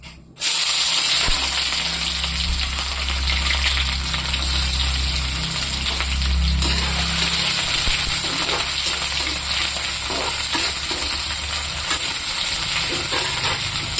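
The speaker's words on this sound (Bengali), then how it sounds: "কড়াইতে তেল দিয়ে দিয়েছি। তখন দিয়ে দেবো এই পেঁয়াজ।" Onions sizzle and fry in hot oil in a wok, a steady broadband crackle with low rumble that runs continuously for the whole stretch, close and loud with no talking.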